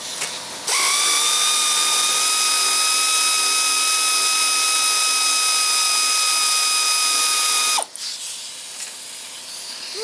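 An air compressor kicks on, running at a steady loud whine with a strong hiss and tonal hum for about seven seconds, then cuts off abruptly.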